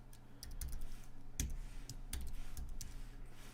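Code is typed on a computer keyboard in quick, close, uneven keystroke clicks over a faint steady hum, with no one speaking.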